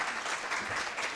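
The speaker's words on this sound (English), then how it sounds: "Let's give them a loud round of applause." An audience at a research and innovation week event gives a round of applause, a dense, even burst of many hands clapping, loud and continuous for a brief moment.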